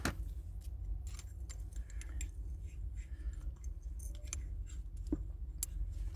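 Scissors snip through paper for a notice board, a quick series of close, crisp cuts with small clicks between them against a quiet room.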